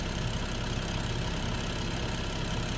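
A BMW 3.0L engine idles steadily, a constant low rumble at close range with no voices.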